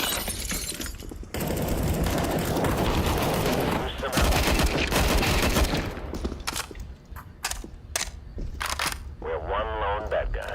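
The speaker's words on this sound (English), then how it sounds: "What the hell are y'all even shooting at," Rapid bursts of automatic gunfire in a video game shootout crackle loud and dense, then break into scattered single shots and sharp cracks, with someone talking over the action.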